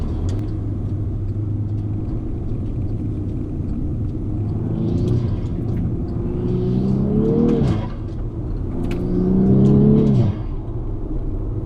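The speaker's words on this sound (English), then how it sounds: "the first 100 yards in my car since I put the new rear wheels with wider tyres on." A Volkswagen Scirocco R rolling on new wider rear wheels and tyres: a steady close road rumble and engine drone, with the engine note climbing twice as the car accelerates and then dropping, with no talking.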